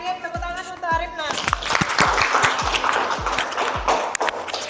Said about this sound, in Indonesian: Tepuk tangan untuk Arif nah